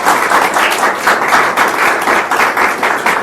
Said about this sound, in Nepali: उहाँलाई ताली बजाएर हामी स्वागत गर्दछौँ।